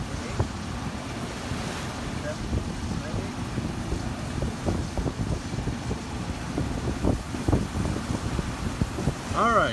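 A reefed sailboat on an offshore ocean passage at sunset, making about five knots through choppy water, with waves slapping and sloshing against the hull under steady rushing wind noise.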